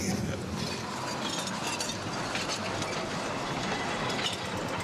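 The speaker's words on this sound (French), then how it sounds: "Ça fait du bruit un train à vapeur." A steam train, a forest railway train in Moselle, rumbles steadily along with a continuous rattling, rushing noise and faint rhythmic clatter, fairly close and without talk.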